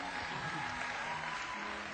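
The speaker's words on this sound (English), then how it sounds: "Give them all a big round of applause." An improv theater audience breaks into applause after a comedy scene: a dense, continuous wash of clapping from a large crowd that stays loud and even throughout.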